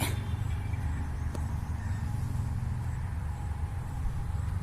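A lorry passing on a nearby highway gives a steady, loud low engine rumble across the whole stretch, with a brief hiss near the start and no talk.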